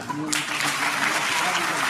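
A crowd applauds at the launch event for a short film, dense continuous clapping that swells in after a brief moment of a voice and carries on steadily.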